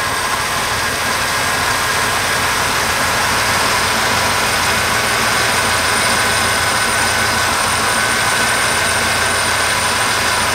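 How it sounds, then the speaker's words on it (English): A classic car engine idles steadily with a temporary breather fitted, a continuous close rumble with a broad hiss running unbroken and even throughout, no voices. "See how much better it's idling now?"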